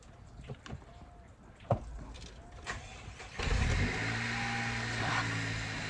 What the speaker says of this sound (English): let's get this car started